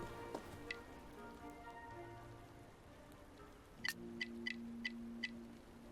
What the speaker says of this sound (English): God, I hate these birds.